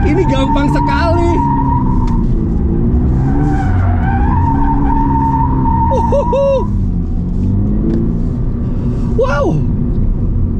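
Loud, continuous tire squeal and skidding from a standard 2024 Subaru BRZ held in a drift, the engine note rising and falling beneath, with someone speaking over it.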